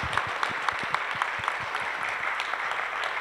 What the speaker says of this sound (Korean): 가을을 축하하는 박수 한번 하겠습니다.